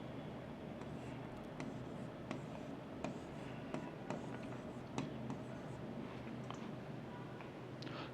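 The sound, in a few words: writing the word Kotlin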